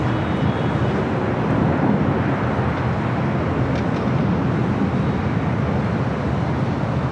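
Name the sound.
Delta Airlines Boeing 737-900ER jet taking off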